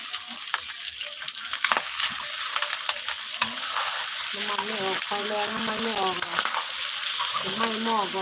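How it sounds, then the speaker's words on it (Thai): Pork skin stir-fries in a pot to render its fat for cracklings, with steady sizzling, frying crackle and repeated scraping stirs close by, while a voice talks intermittently in the background. "เราต้องคั่วให้น้ำมันมันออกก่อนนะคะ"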